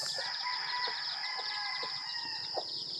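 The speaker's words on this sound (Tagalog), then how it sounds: "Yan lang po yung mga manok ko po" Chickens cluck and a rooster crows nearby on a farm, with repeated short calls over a steady high-pitched chorus of birds or insects.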